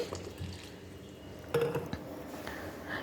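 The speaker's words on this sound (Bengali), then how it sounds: "তারপরে আমি জল দিয়ে দিচ্ছি" Water being poured into sattu and flour for paratha dough in a home kitchen, a faint trickle with soft drips and a light clink of a vessel, with no talking.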